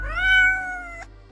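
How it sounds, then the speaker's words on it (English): A single clear cat meow, rising slightly then sustained and ending abruptly about a second in, close and fairly loud over a low background rumble. "Meow, the cat replies absentmindedly."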